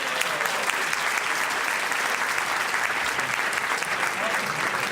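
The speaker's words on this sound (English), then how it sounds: "One round of applause." Audience applause at a civic luncheon meeting, steady dense clapping from a crowd held at an even level for the whole span, with no voices breaking through.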